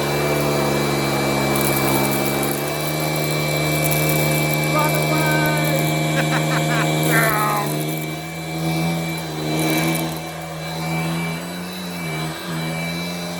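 Hoover brushvac running with a steady motor whine and strong harmonic hum, picking up scattered rice grains with brief rattling clicks partway through, close and continuous.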